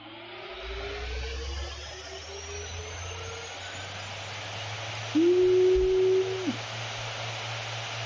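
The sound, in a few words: gaming laptop cooling fan at maximum speed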